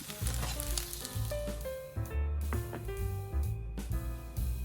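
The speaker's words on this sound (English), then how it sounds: "Stir fry until the sauce is evenly distributed" Miso garlic fried rice with sauce is stir-fried in a pan, giving loud crackling sizzle and quick clattering stirs, with a tonal, music-like layer running throughout.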